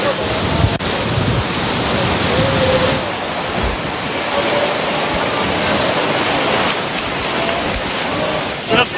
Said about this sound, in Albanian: Era e fortë dhe dallgët duket se e bën më emocionuese rritjen e kapjes së kryqit në det në Vlorë.